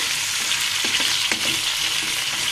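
Pointed gourd and potato pieces fry with salt in oil, a dense, even hiss of sizzling with a few soft stirring scrapes, close and steady throughout.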